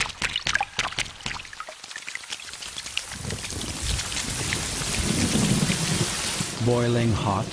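Heavy rain pours down in a steady, dense hiss, starting with scattered crackling drops and building to a continuous downpour, with a low rumble and a voice speaking briefly near the end.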